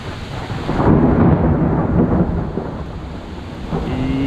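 Thunder rumbles through a rainstorm in the Blue Mountains, a deep rolling boom swelling up early and slowly fading under a steady hiss of rain.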